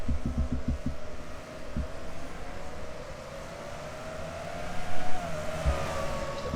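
Stock cars bunched together in the 2007 Cup Series race at Sonoma roar through the esses, a loud sustained engine drone whose pitch sweeps and shifts, with a few dull thumps early on.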